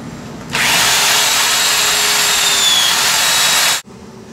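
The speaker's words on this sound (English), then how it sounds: "Now this drill bit has to be a little large to be able to go through this thing." A power drill with a large bit bores through a six-foot wooden Frankenstein carving, a loud, steady grinding whine that starts abruptly, holds for about three seconds, and then cuts off.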